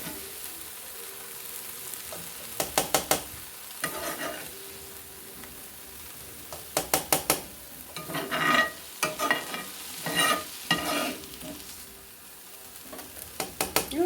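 Ingredients for posole go into a hot pot on a stove, setting off bursts of sizzling frying with repeated stirring and scraping, in clusters of loud crackle between quieter simmering stretches.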